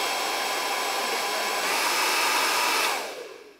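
A GHD Helios hair dryer runs steadily on its cool setting, a loud, even rush of blowing air with no voices, tapering off as it powers down near the end.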